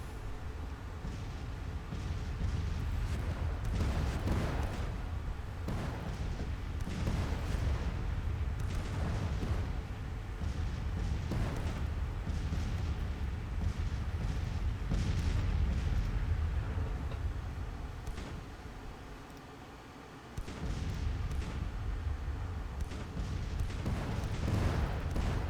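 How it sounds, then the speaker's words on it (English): Civil War artillery cannons fire repeatedly in a strategy video game set around Richmond, deep booming blasts recurring every few seconds over a constant low rumble of battle, loud and sustained throughout. "Firing counter batteries at these guns."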